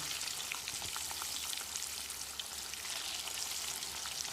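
Yam cutlets frying in hot oil over high heat, giving a steady, hissing crackle with tiny popping bursts throughout, close and even, with no voices.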